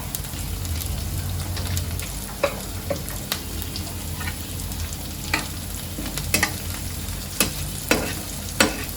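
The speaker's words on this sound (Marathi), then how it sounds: "मीठ सगळीकडे लागेल यासाठी मी सगळ्यांना एक साथ परतून घेते" Sabudana khichdi being sautéed with salt in a pan, giving a steady, dense frying sizzle with occasional light spoon taps and scrapes as it is tossed.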